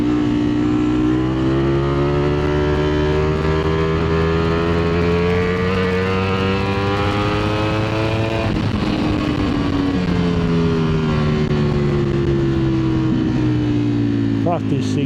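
A 2025 Ducati Streetfighter V4 S motorcycle accelerates hard, its engine note climbing through the gears with a brief dip at a shift, loud and close throughout, with a rider's voice audible over it.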